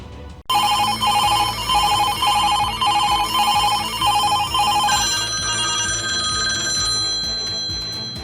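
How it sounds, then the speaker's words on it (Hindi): A telephone ringtone starts abruptly and rings loudly in repeated electronic bursts with a steady rhythm, continuing for several seconds with no talk. "रिंगटोन यहीं से बजता था"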